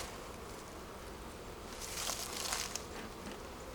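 Honey bees buzz in a steady, dense drone around beehives as supers are added, swelling slightly louder midway with no voices.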